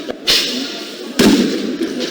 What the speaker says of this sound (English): Firing of tear gas, sounds of gunshots and vandalism of police vehicle.